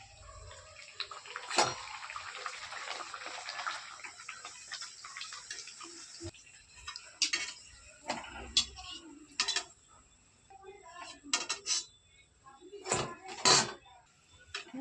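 Luchi, a puffed flatbread, goes into hot oil in a wok, first raising a dense, bright hiss that fades, then giving way to scattered bubbling pops and sharp spatters.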